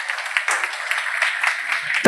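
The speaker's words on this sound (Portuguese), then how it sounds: "Salva de palmas para o Edson, para sentar." Church congregation applauding for a man returning to his seat, dense, steady clapping from a crowd with a voice mixed in, ending abruptly.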